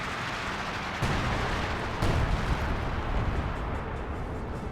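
In the Company of Heroes 2 war game, British 25-pounder artillery shells pound an area near a bunker. Two heavier blasts stand out within a continuous, loud rumble of distant bombardment and battle noise.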